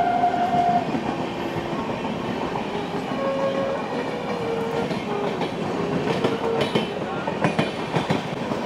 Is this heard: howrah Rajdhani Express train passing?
yes